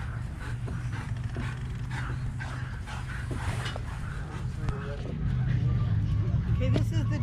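A greyhound whimpers, pants and gives short yips over a steady low rumble, with people talking nearby throughout.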